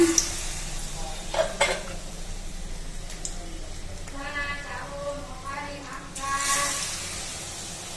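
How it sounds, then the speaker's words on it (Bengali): Gram-flour batter fritters fry in hot oil with a steady sizzle and occasional utensil clinks, while someone talks over the cooking. "বেসনগুলো ভেজে নিচ্ছি"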